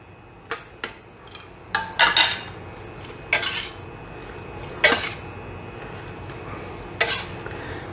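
Potatoes are tossed and coated in a pan for garlic butter steak and potatoes, giving scattered clinks and scrapes of a utensil against metal, several sharp close knocks spread unevenly over quiet gaps.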